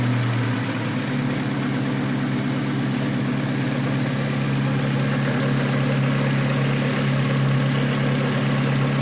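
A GTV-PS car engine idles steadily and loudly for the whole stretch, with a low, even hum. A brief change near the start may be the moment the engine catches.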